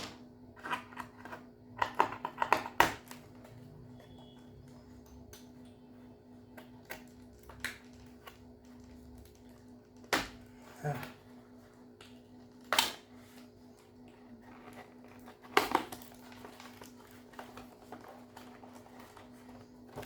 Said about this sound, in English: let's cut Duke and the cycle out of the box as well